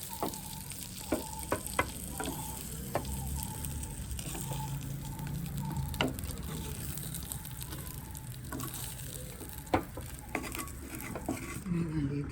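Prawns fry in a pan with a steady sizzle while a utensil turns them, giving sharp metallic clicks and taps against the pan at irregular intervals, close up and without talk.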